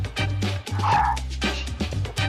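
A dog barks and yips a few times close by, short bursts over a steady low hum, with faint talk in the background during an evening chat over coffee.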